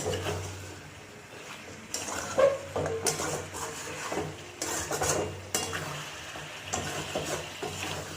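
Chicken sautéing in a pan over a medium flame, stirred with a utensil in long scraping strokes over a low, soft sizzle at close range, with occasional clinks against the pan.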